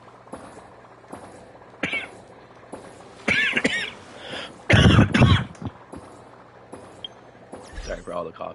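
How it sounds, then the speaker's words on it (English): Repeated coughing and throat clearing close to the microphone, several harsh bursts at irregular intervals with a loud cluster in the middle, no speech between. "Sorry for all the coughing."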